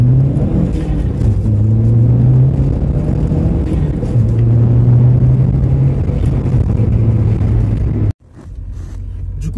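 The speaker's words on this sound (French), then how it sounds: "Un petit départ arrêté." An Audi TT MK1 with the 180 hp engine launches from a standstill, its loud engine note droning and rising steadily through the gears for about eight seconds before cutting off abruptly.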